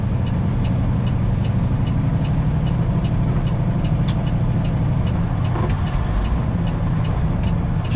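Heavy haul truck engine droning steadily inside the cab while shifting up through the gears, a loud constant low rumble with faint clicks over it and no talk.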